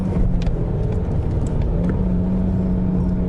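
A BMW E90 320si engine hums steadily while driving on a road, loud, close and continuous with a constant low drone and no talking.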